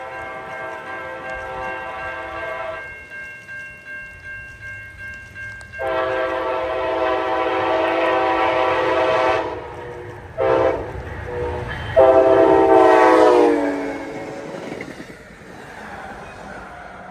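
An Amtrak Charger locomotive on a test run sounds a loud multi-tone horn in several long blasts, then brief short toots, over the rumble and clatter of the passing train, close by.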